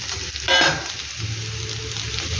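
Potatoes and onions frying in a pan give a steady close sizzle, with a louder hiss and clatter burst near the start as the food is stirred.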